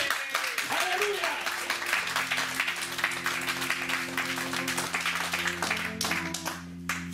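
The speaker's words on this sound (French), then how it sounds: "Acclamons le Seigneur très fort." A church congregation applauding, a steady wash of many hands clapping throughout, mixed with voices and a sustained musical tone underneath.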